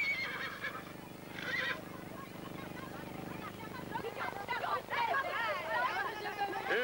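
A horse neighs loudly with a drawn-out, wavering whinny, then more whinnying follows while people talk nearby.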